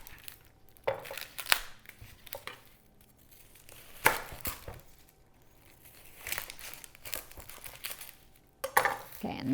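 A knife cuts the ends off an onion and quarters it on a cutting board, a series of sharp, separate chops and thuds with quiet handling noises in between.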